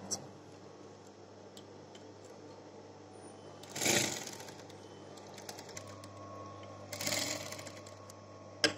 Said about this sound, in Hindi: इस तरह दबा अंदर करते हुए इस दे आपां टॉप सिलाई लगावांगे।